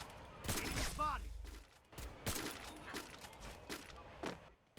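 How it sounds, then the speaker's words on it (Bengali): Gunfire from the Free Fire mobile battle-royale game on an iQOO Z10 Turbo Pro: repeated sharp shots in quick bursts across the clip, loud and close, mixed with game effects and a faint voice. "দুইটা গুলি করলাম, দুইটাই ওর প্যানে লাগলো।"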